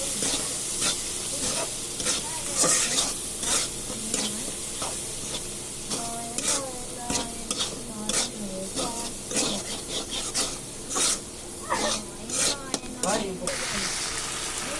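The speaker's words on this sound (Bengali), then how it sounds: "এবার আমরা ডিম দিয়ে দিলাম। তারপরে নেড়ে নেব, ভালোভাবে নেড়ে নেব।" Eggs fry and are stirred in a pan while pasta is being cooked, giving a steady close sizzle with repeated scraping strokes of a utensil, and a voice speaks now and then over it.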